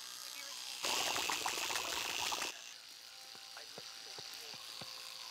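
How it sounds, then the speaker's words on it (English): An electric toothbrush in a cartoon buzzes loudly and steadily for about two seconds, then stops, leaving a quieter background with a few faint clicks. "Electric toothbrush. Good for fighting tartar, but bad for when you lose power."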